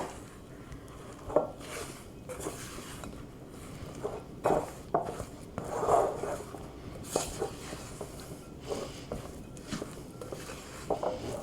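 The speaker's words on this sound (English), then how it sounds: "we're just gonna mix that up good until everything is incorporated" Sourdough coffee cake batter made with freshly milled flour is stirred in a bowl, giving irregular soft scrapes and knocks of a utensil against the dish, fairly close and uneven in rhythm.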